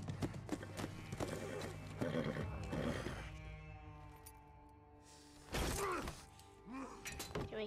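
Horse neighing and hooves galloping during a For Honor battle with burning horses, a rhythmic clatter under game noise and a loud whinny near the end.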